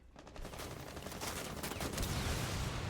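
Gunfire in Rainbow Six Siege during an esports grand final, with rapid overlapping shots building into a dense, continuous rattle of firing that grows slightly louder toward the end, without clear speech.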